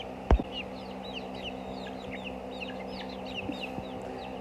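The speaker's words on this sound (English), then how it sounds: "And these are the chickens." Chickens on a farm cluck softly and steadily against a constant low hum, with one sharp knock near the start.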